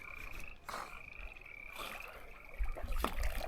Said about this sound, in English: Just croaking away. Tons of frogs out there.